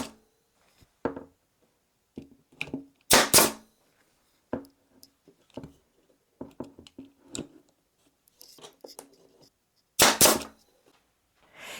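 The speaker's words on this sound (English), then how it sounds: "I'm going to use a nail gun and secure all the slats, and I'll put 2 in each one" Sharp pneumatic nail gun shots securing wooden slats of a scrap-wood seed tray, several loud cracks spaced irregularly among quieter knocks and handling sounds.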